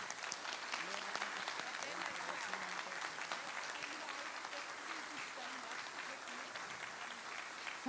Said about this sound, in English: I think we can have an applause for Hilleji van Land for all the work.